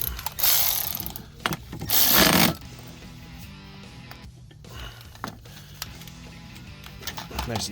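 A ratchet wrench tightens a 13 mm bolt on the rear strut suspension of a Mazda 3, giving bursts of rapid ratcheting clicks between quieter mechanical handling, close up with no talking.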